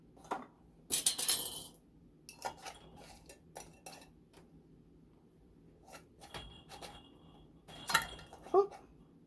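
A metal canning lid goes onto a glass jar of orange juice in a home kitchen, with sharp clinks and scraping taps of metal on glass among quieter handling sounds, and a voice speaks briefly.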